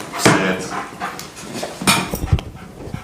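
A two-year-old stray dog at a county commissioners meeting gives short bursts of close barking and whimpering, with several sharp yelps and panting spread across a few seconds in a room.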